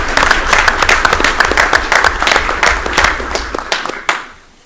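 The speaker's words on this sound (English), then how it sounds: "So let's give everybody another round of applause" An audience at a school Board of Education meeting gives a loud round of applause for athletes and their coaches, dense clapping with a few sharp accents that swells, then fades out quickly near the end.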